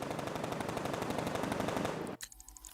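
Rapid automatic gunfire in Batman: Arkham Knight, a steady stream of fairly quiet machine-gun shots that cuts off abruptly near the end, followed by a brief lull.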